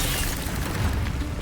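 A spell cast in the Hogwarts Legacy video game, a Disarming Charm bursting out as a dense, booming whoosh that fills the short moment, loud and close with no voice over it.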